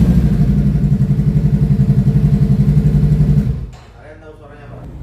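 A Honda Rebel 500 motorcycle idles with a loud, close, even low thumping pulse for several seconds, then the engine cuts off abruptly and people begin talking.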